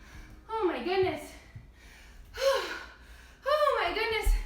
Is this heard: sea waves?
no